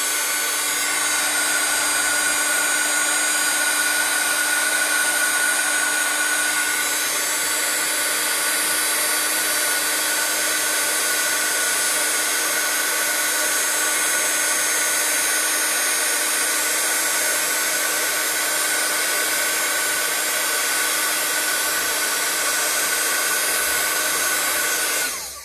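A heat tool blows continuously to melt clear embossing powder on paper, a loud, steady whooshing roar with a constant whine that runs unbroken for about 25 seconds before cutting off.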